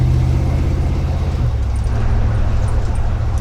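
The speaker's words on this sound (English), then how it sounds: "So this is how this car runs all day." A front-engine gasser drag car idles loud and close, its lumpy, steady engine rumble shifting slightly in tone midway through.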